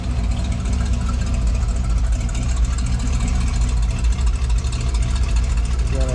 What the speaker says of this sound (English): Again, exhaust sounds good.